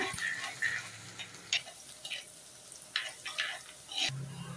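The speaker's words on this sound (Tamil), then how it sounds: "ஒரு பத்து பல் பூண்டு தான் இருக்கும் வந்து சேர்த்து இப்படி நல்லா வதக்கிடுங்க" Around ten garlic cloves sautéed in hot oil and stirred for a Tamil sundakkai kuzhambu, crackling sizzle with repeated scraping stir strokes and utensil knocks, moderately close, no voice.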